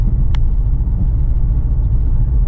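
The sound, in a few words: 2008 Subaru Impreza WRX car engine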